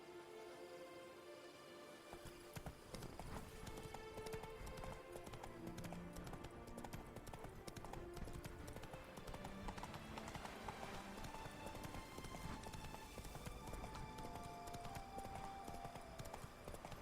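Roach, the horse in The Witcher 3: Blood and Wine, gallops with a steady run of clip-clopping hoofbeats that continue for the whole stretch under constant background music.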